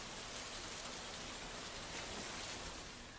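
Heavy rain pours steadily across Maharashtra, a dense, even hiss of water striking surfaces that holds without a break from start to finish.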